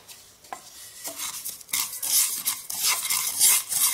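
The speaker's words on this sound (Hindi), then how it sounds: "इसी तरह से 2 मिनट के लिए तिल को हिलाते हिलाते भूनें।" Sesame seeds being stirred and dry roasted in a pan over low heat, with repeated scraping and rattling strokes of a spoon against the pan and a light crackle, close and without talk.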